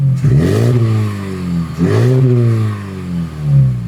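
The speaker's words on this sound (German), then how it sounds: "Wir machen mal noch ein bisschen Leerlauf, damit er die Akustik hört, und dann geben wir mal so ein bisschen Gas." Close, loud revving of a Mazda3 BP with an aftermarket sports exhaust, two sharp throttle blips whose deep exhaust note climbs then sinks back to a rumbling idle.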